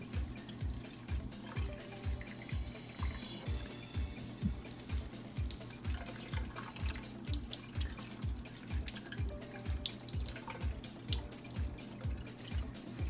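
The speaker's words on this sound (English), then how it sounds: "So I'm cleaning off my chicken using filtered water" Filtered tap water runs steadily into a sink as a whole six-pound chicken is rinsed under it, with a continuous close splashing stream and a regular dripping, pattering rhythm beneath.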